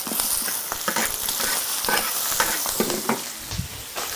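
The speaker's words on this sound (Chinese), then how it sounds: "那就可以放入干辣椒也一起煸一下，会更香一点" Dried chilies, Sichuan peppercorns and hotpot base are stir-fried with scallion, ginger and garlic in a wok, a loud continuous sizzle broken by repeated scraping strokes of a spatula, with no talking.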